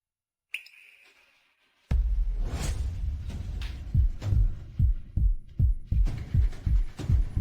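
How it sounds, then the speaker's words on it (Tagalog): A quickening heartbeat sound effect: after a brief tone and a pause, deep thumping beats start slow and close together, then repeat steadily and grow faster and stronger, loud and alone with no voices. "Bakit bumibilis ang tibok ng puso ko at ang gulo ng isip ko?"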